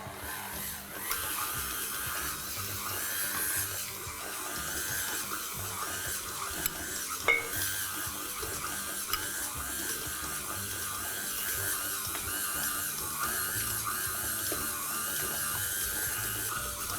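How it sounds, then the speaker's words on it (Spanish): A stand mixer beats butter into panettone dough with chocolate chips, producing a faint, steady whirring motor hum throughout with occasional small knocks. "vamos a subir la batidora al número 3 y vamos a amasar por unos 6 minutos más"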